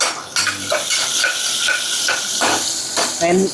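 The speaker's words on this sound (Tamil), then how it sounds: "வெங்காயம் வதங்கட்டும்." Onions sautéing in a pan for a pulao, a steady sizzle broken by spoon scrapes and light clinks of a utensil against the metal, close and moderately loud throughout.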